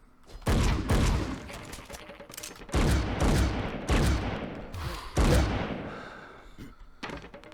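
Gunfire in the side-scrolling video game Broforce: a series of loud, punchy shot bursts in irregular clusters, each with a sharp attack and short decay, with no talking over them.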